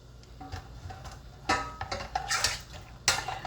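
Sterilized metal lids clink and tap against glass rhubarb jam jars, a few light, close clicks scattered over a quiet kitchen background.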